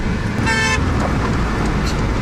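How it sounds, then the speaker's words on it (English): A short car horn toot sounds once over a steady rumble of traffic and road noise. "Yeah, honk all you want."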